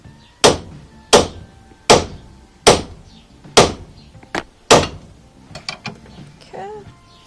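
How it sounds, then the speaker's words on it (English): Hammer blows striking a tie rod end on an E30 BMW, six sharp metallic knocks at a steady pace, followed by a few lighter taps and clinks, close and loud with no speech. "You can give a little persuasion with a hammer."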